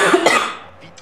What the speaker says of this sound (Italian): Fatto venire la tosse